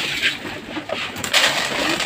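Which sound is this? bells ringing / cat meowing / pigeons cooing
pigeons cooing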